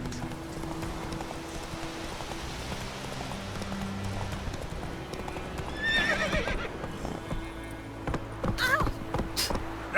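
Roach the horse gallops in The Witcher 3, hooves clip-clopping in a steady rhythm, with a neigh midway and louder hoof impacts near the end, close and clear.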